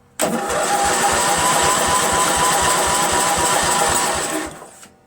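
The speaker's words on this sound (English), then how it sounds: "I'm going to crank it and see if we have spark" Briggs & Stratton engine on a Craftsman LT1000 lawn tractor cranking over with a spark plug removed, a loud steady rapid chugging of the starter and engine lasting about four seconds before stopping abruptly.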